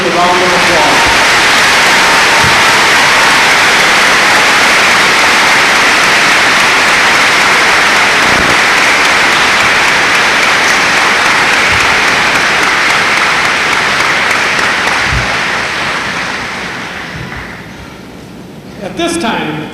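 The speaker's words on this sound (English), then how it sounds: "Please join me in recognizing these outstanding young men and women with a round of applause." A large crowd at a 1999 high school commencement ceremony gives a long, loud round of applause, a dense, steady rain of clapping that holds for most of the time before fading out near the end.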